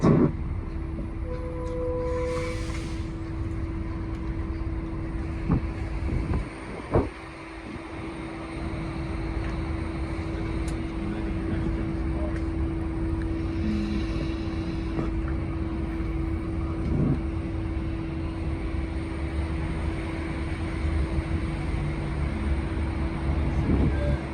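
Engine drone heard from on board a Volvo ALX400 double-deck bus with a slipping ZF gearbox, driving through Belfast onto the Dublin Road. The steady, loud rumble runs throughout, with faint rattles and a brief thump partway through.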